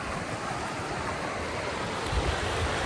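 Mountain creek rushing at a campground by a bridge in the Canadian Rockies, a steady loud broadband roar of flowing water close to the microphone with no talking.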